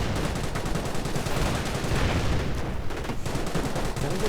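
Bren gun machine-gun fire in a real-time strategy game, dense overlapping rattling bursts and distant booms of battle filling the scene continuously at moderate loudness, with no talk.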